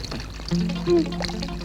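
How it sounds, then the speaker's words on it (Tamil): Water runs from a pipe tap in a steady, fairly close splashing stream, with voices and other tones mixed in. "பாப்பா பைப்பு மூடு, தண்ணி வேஸ்ட் ஆகுது."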